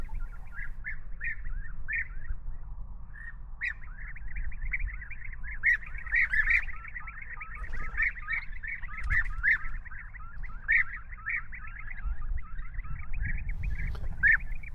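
Young European bee-eaters chirp from inside a nest burrow in Königschaffhausen, a dense, continuous chorus of rapid repeated calls, moderately loud over low rumbling background noise, with no speech.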